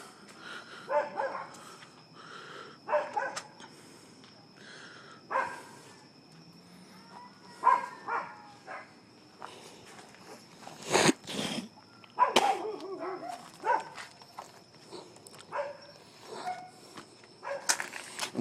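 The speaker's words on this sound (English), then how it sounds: "They bark constantly." Neighbours' dogs bark repeatedly in irregular bursts outdoors in a residential area, some barks near and sharp, others fainter, with quiet gaps between volleys.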